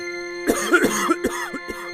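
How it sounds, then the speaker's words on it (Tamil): One person gives a loud, harsh cough after eating fiery hot bajji, breaking into several rough bursts, close up, with a steady hum in the background. "திடீர்னு அவங்கள ஒருத்தருக்கு ரொம்ப சத்தமா இருமல் வருது."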